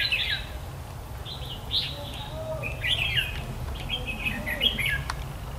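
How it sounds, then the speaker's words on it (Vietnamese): Many birds chirp in repeated bursts of high, bright calls and squawks over a low rumbling background, fairly close and with no speech. "Đầy quá nhiều chim."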